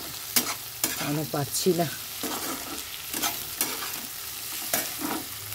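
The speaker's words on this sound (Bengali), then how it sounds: "একটু এই আলু ভাজাটার মধ্যে একটু পেঁয়াজ আর কাঁচা লঙ্কা দিয়ে দিলাম" Potato fry with onion and green chili sizzles in a pan while being stirred, with repeated scraping strokes over a steady hiss, close by; a voice speaks briefly near the start.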